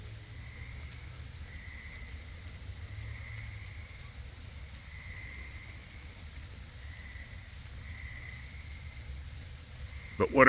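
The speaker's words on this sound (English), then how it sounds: "Tree frogs," Faint frogs chirp in short repeated bursts over a low, steady night-time hum, distant and quiet, with a brief knock at the end.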